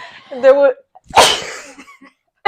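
A single sharp, breathy sneeze bursts out between short stretches of casual conversation, close and loud in a quiet room.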